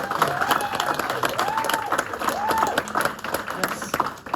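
An audience applauds a band at the close of a live performance, with steady clapping and some cheering filling the room and voices mixed in.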